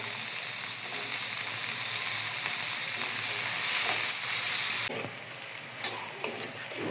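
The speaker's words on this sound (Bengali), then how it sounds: "ঝাল পেঁয়াজ লাল করে ভেজে নিয়েছি" Chopped onion and green chili fry in oil left over from frying fish, giving a loud, continuous close sizzle that drops to a softer crackle partway through, with a few light utensil knocks.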